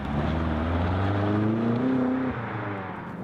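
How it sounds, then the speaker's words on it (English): A BMW M5 or M550i accelerates hard with manual shifting from about 80 to 180 km/h, the loud engine tone climbing steadily before dropping at a gear change. "And now one more acceleration with shifting ourselves."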